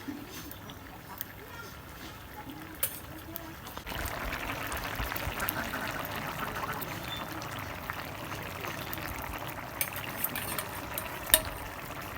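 Fish going into a pan of simmering curry made with red amaranth stalks, bringing on a sudden, steady sizzling hiss that carries on loudly with faint stirring under it.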